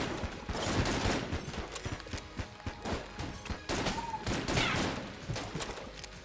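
Bursts of rapid gunfire crackle in Enter the Gungeon, with irregular volleys of sharp shots and brief gaps, fairly quiet against game background sound.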